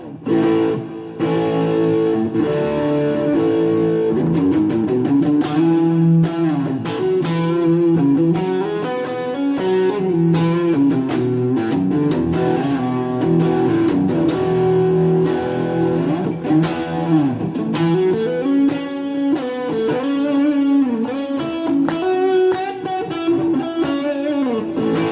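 Overdriven electric guitar solo through a BOSS ME-25 multi-effects unit, a steady stream of loud, sustained lead notes and bends that plays throughout without a pause.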